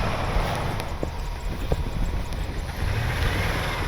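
A vehicle engine is throttled hard to pull free from being stuck, a steady loud rumbling roar mixed with wind buffeting, holding at constant strength throughout.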